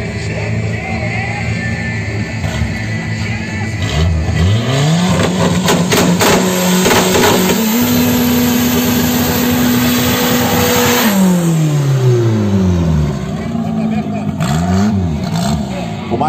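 A drag race car on a no-prep track at Tarumã revs loudly and accelerates, its engine pitch climbing and holding before dropping away, with a commentator's voice running over the roar throughout.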